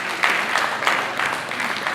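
An audience at a teachers' capacity-building workshop claps in a brief, moderately loud burst of applause from many hands.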